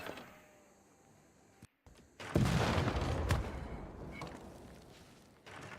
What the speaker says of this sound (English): Exchange of gunfire.